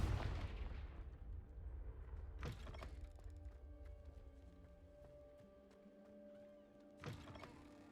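Confringo blasting spell explosions in the Hogwarts Legacy video game: a sharp booming blast at the start, another around the middle and a third near the end, each fading into a humming, ringing game ambience between hits.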